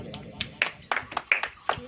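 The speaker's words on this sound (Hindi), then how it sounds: "ताली बजाइए।" A church congregation claps along at a service, several loose, uneven hand claps in quick succession mixed with a preacher's talk.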